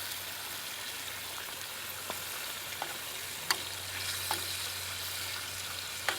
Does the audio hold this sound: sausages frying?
yes